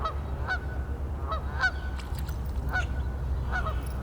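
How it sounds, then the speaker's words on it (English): Several geese honk in a loose series, a handful of calls spread over a few seconds against a steady low rumble. "Geese."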